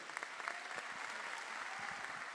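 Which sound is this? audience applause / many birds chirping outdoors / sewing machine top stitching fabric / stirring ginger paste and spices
audience applause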